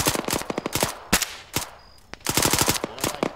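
Suppressive machine gun fire in a military shooter game comes in rapid close bursts of sharp, loud shots, broken by short pauses and then a longer sustained volley.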